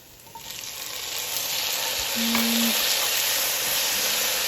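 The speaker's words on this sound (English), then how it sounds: "I'm going to saute this until the tomatoes get wilted." Tomatoes sauteing in a pan for pork sinigang, a steady close sizzle that swells slightly louder after the first second, with a brief utensil clink midway.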